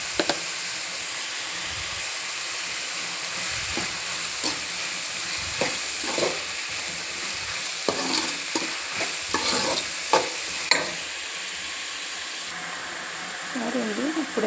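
Egg burji fries and is stirred in a pan with salt, a continuous close sizzle and hiss broken by repeated scraping spatula strokes, with a voice speaking briefly alongside.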